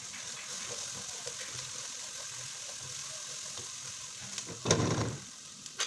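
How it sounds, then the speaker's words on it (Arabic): Garlic, onion and salt sautéing in a pan, a steady close sizzle and frying hiss throughout with a brief louder stir-and-scrape burst near the end. "هشوح بقى الثوم مع البصله مع الملح"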